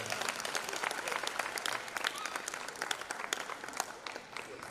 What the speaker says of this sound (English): Just give her one more round of applause